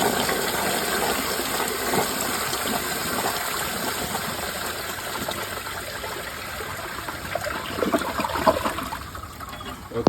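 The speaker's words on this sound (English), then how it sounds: "I'm gonna clog all of the jets, and I hope it's gonna flush like a nice long vintage toilet flush" Glacier Bay round power-flush toilet on a mid tank flushing with its jets clogged, a loud continuous rush and swirl of water that stays steady for about ten seconds, then gurgles as it drains.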